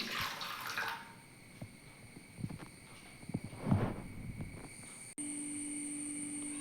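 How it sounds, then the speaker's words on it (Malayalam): Water splashes and trickles into a pot of green pea curry in a few uneven pours, close and fairly soft, followed by a faint steady hum. "ആവശ്യത്തിനുള്ള വെള്ളം ഒഴിച്ചു കൊടുക്കാം"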